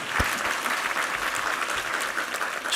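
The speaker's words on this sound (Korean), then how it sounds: "우리 하나님께 감사와 영광의 박수 올려드리겠습니다." A church congregation claps together during a Sunday worship service: dense, steady applause from a full room that fills the whole stretch without pause, loud and close.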